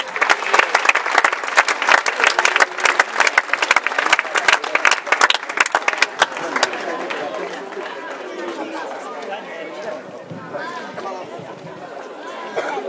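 At a youth football award ceremony, an audience breaks into loud, dense applause for several seconds that thins into scattered claps as crowd chatter and voices take over.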